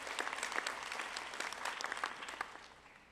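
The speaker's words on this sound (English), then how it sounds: "And the executive dean, Dr. Steyer, also deserves a round of applause." Audience applause for the executive dean at a medical residency graduation and award ceremony, a steady patter of many hands that is moderately loud, then fades and thins toward the end.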